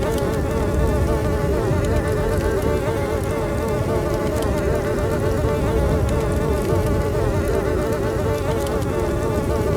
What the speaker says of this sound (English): there is actually a fly buzzing sound effect applied to the item